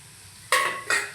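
Boiled egg pieces stirred into masala frying in a pan for egg sukka, heard as two quick, close scraping stirs over a faint background sizzle.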